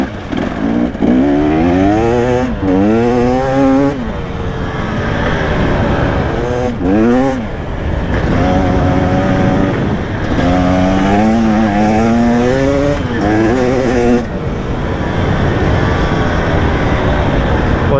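A KTM 300 EXC two-stroke enduro motorcycle on an enduro trail ride, its engine revving up and down in repeated rising and falling sweeps, loud and close, with brief dips between throttle bursts.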